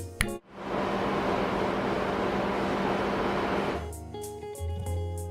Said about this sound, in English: because the engine room sounds like this